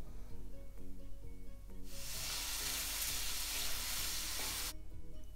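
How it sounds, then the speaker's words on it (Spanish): Onion hits hot oil in a pan and is stirred. A low, scraping stir gives way to a loud burst of bright sizzle that holds for about three seconds and then cuts off sharply. "Y le pongo casi al instante la cebolla y lo muevo bien porque si no esto se puede quemar"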